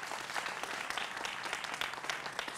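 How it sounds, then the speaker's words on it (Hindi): Studio audience applauding on a Hindi political television debate show, a steady dense wash of clapping lasting a couple of seconds at moderate level, with no talk over it. "तो जोरदार तालियां होनी चाहिए"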